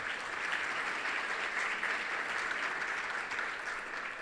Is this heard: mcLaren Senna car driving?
no